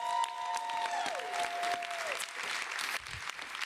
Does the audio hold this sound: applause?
yes